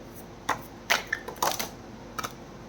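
Tarot cards shuffled by hand in a quiet room, a few short papery riffles and snaps in separate bursts, close and moderately soft, with no talking.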